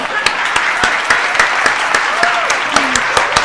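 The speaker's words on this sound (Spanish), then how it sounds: "este aplauso es para ustedes." Steady applause of many hands clapping in a fast, even rhythm, fairly loud and close, continuing for a few seconds with no talk over it.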